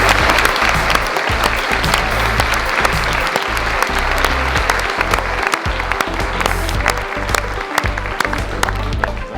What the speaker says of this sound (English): Applause for the second.